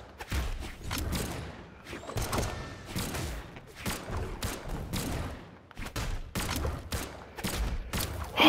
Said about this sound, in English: Hey, you're shooting guns, man.